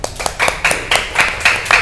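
A small group claps in a steady, even rhythm, with about eight sharp hand claps spaced roughly a quarter second apart, close and fairly loud with no talk over it.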